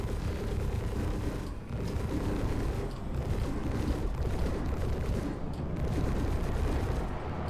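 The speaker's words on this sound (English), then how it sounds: "He's back strafing the living shit out of me here" Aircraft strafing gunfire in a video game sounds as a continuous, dense barrage of loud rapid shots and blasts. It rumbles heavily throughout with only brief dips and no voices.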